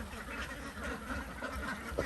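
Egg-laying ducks on a farm in Surin, Thailand quack in a steady, overlapping chorus, a busy flock close by with continuous rough calls and no pauses.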